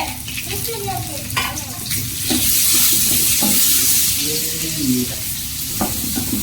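Chopped onions and curry leaves fry in a hot pan, a constant sizzle broken by repeated scraping and stirring strokes of a spoon, close and fairly loud.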